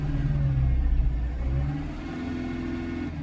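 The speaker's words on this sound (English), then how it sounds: "If I raise the RPM up" A car engine, being monitored with a scan tool, is revved so its RPM rises: a loud, close, steady mid-pitched drone that climbs and then holds, heard alone.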